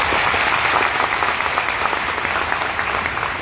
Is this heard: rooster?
no